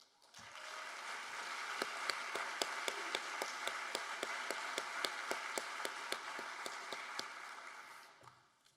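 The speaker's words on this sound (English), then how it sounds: "I'd like them to stand for a round of applause, if they could, please" Round of applause for scholarship finalists standing at a high school senior scholarship ceremony, a steady wash of many hands clapping with distinct individual claps, moderately distant, fading out after about eight seconds.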